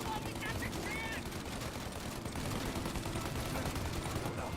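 Rapid gunfire bursts in the video game Mafia: Definitive Edition, continuous crackling shots under a busy mix of game noise.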